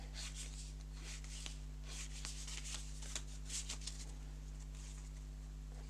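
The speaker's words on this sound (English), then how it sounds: "we sort of randomly place these into the deck and then give it a shuffle anyway" A deck of playing cards being shuffled during a tabletop card game play test, with soft repeated riffles and taps over a low steady hum, fairly quiet and close.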